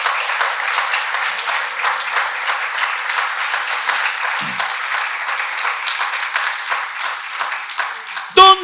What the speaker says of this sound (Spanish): Dele un fuerte aplauso al maestro.